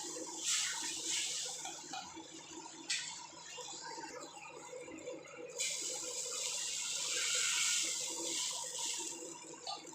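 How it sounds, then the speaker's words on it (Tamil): Water poured into a cooking pot for a vegetarian fish-style curry with tamarind, a steady splashing pour with brief pauses, fairly faint and with no talk. "தேவையான அளவு தண்ணி ஊற்றிக்கலாம்"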